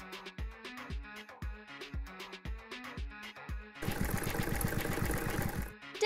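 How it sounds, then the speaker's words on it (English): A sewing machine stitches embroidered tulle onto a jean jacket, a rapid, steady run of mechanical needle strokes for about two seconds, following softer rhythmic tapping and music-like tones. "Sew embroidered tulle into the holes."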